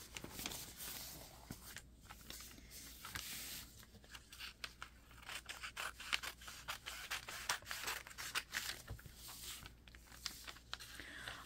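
Scissors snipping through glossy magazine paper to cut out a picture, a steady run of close, light cuts and rustles with soft paper handling, faint background hiss and no talking.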